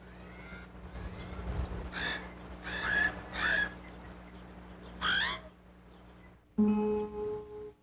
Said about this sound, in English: It is the crow, a loud-voiced bird, like a person who talks too loud.